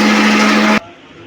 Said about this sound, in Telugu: ఓ పక్కన మిక్సీ పడుతున్నది.